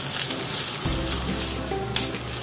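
Green chillies sizzle and roast in hot oil in a pan, a steady close crackle with faint stirring scrapes and no talk.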